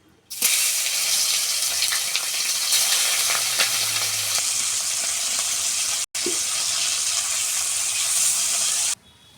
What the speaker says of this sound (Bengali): মাছের নুন হলুদ মাখিয়ে রেখেছিলাম, ভেজে নেব।